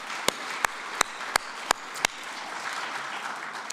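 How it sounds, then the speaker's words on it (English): Audience applause at a speech night competition: a scattered crowd claps in a hall, with a few sharp, louder claps close by standing out over a soft, steady patter that fades. "Could we please give them a round of applause?"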